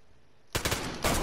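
Video game shotgun fire, silence broken by a loud close blast followed by a second heavy shot about half a second later.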